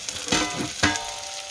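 Ingredients sizzle in a hot pan, with two brief louder bursts of stirring over a steady crackling fry.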